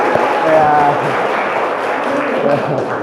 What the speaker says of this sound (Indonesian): Coba sambil tepuk tangan ya, sambil tepuk tangan.